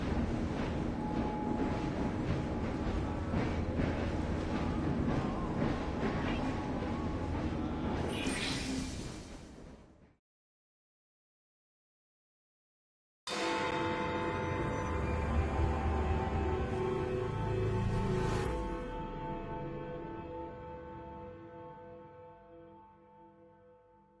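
A train in the video game Assassin's Creed Syndicate rolls along its tracks with a steady, loud rumble and windy rush, cutting to silence for a few seconds before the rolling resumes and slowly fades.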